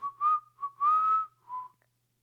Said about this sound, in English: You just start hearing whistling from the lights